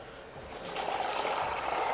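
Water pours steadily from a container into a pot for navy bean soup, a continuous close splashing and trickling stream that builds slightly in loudness, with no talking.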